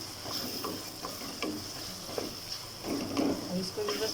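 Halved tomatoes and green chillies cook in a pan for a masala baingan, giving a steady soft sizzle with occasional stirring clinks while a person talks over it.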